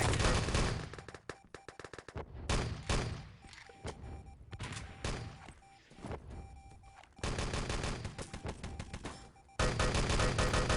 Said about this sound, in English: Long range shooting from Flop here